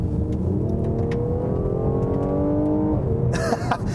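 A 2018 Mercedes-AMG GLC 43 Coupe SUV accelerates in sport mode, its engine droning and rising steadily in pitch from inside the cabin. A quick shift and a sharper burst of sound come near the end.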